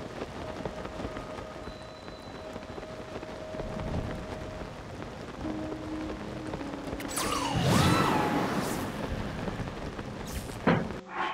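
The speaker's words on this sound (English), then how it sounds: "Oh, the rain is not gonna make it friendly." Soft, steady rainfall patters in Zelda: Tears of the Kingdom, fairly faint and continuous, mixed with game tones, a whooshing swell toward the end and a short sharp hit.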